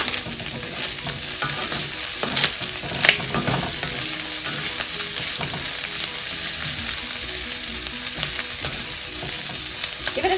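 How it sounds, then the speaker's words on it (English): Corn kernels, seasoned with cayenne, fry with a steady close sizzle in a pan on the stove while a utensil stirs them, giving occasional scrapes and clacks over the continuous frying hiss. "Give it a stir every few minutes to get all those good charred bits."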